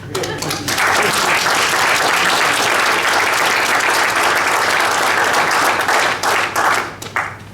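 Conference audience breaks into sustained applause, a thick, even crowd clapping that stays loud for several seconds before thinning out, with a voice briefly heard under it.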